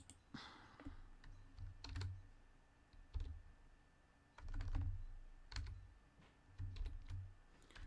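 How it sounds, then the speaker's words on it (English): Typing on a computer keyboard in irregular bursts of clicking keystrokes, close and fairly quiet, with short pauses between runs and no talking. "Guess we're typing in all caps this time."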